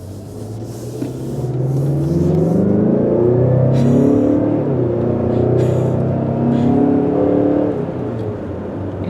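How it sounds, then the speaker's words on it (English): A 2020 Mazda CX-5 Signature with a turbo engine accelerates hard, its engine note climbing through several gear changes in a loud, steady in-cabin rumble with a faint turbo whir and no speech. "Hear the turbo a little bit too."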